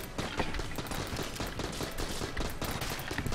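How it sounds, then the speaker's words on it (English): A flare gun fires repeatedly in the video game Enter the Gungeon, a dense, steady barrage of sharp shots at moderate loudness that continues throughout with no talking. "It feels like the flare gun is another gun that reloads faster if you press while the reload is going on as well."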